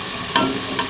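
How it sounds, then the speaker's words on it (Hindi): Masala of garlic, ginger, onion and tomato frying in a pan for a chickpea curry, a steady close sizzle broken by two sharp bursts as it is stirred. "ये हमारा मसाला हो रहा है जिसको हम फ्राई कर रहे हैं।"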